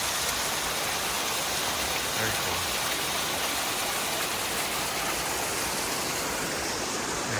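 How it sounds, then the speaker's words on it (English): Fast-moving water rushes down a forest stream on a Virginia hike, producing a loud, constant broadband roar that fills the whole stretch, with someone briefly speaking over it. "look at this water coming down through here"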